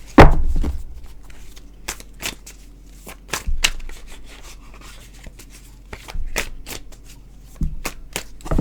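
A tarot card deck is shuffled close up, with bursts of riffling and rubbing of the cards and a few soft thumps, repeated at irregular intervals and with no talking.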